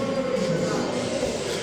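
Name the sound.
Ghostbusters theme park ride train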